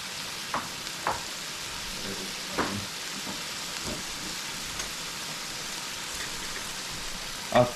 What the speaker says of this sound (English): We're cooking the chow mein on the bigger burner today.